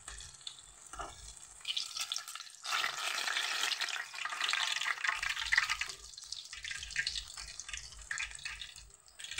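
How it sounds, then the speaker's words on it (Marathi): Urad dal vadas frying in hot oil over a medium gas flame, a steady crackling sizzle that swells into dense bubbling as the batter goes in, close by with occasional light clatter and no talking. "मीडियम गॅसवरच हे वडे तळायचे"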